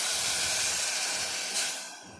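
Water hits a hot pan with a loud, fierce sizzling hiss that gradually dies down.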